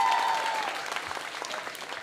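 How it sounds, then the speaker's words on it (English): Applause at an online performance event, a short burst of scattered clapping that thins out quickly, fairly faint with a brief tone at the start. "Big round of applause, please, for Clary Berry."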